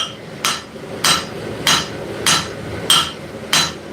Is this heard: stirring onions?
no